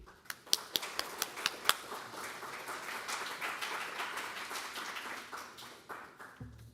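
An audience at a talk applauds: a few sharp separate claps swell into a dense patter of steady clapping that tails off at the end.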